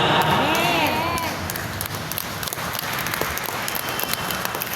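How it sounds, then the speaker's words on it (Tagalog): Congregation at a Friday evening healing service clapping loudly in a large hall, a dense wash of hand claps with scattered sharp hits and some cheering, with a melodic voice or tone briefly audible at the start. "Yung malakas na palakpak sa naniniwala"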